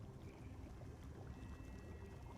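Bubbling water in a tabletop role-playing game, heard as a steady low gurgling wash with no voices over it.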